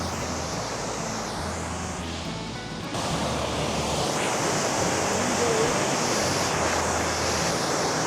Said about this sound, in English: Lealt Falls are really a set of waterfalls running through a tree-lined gorge.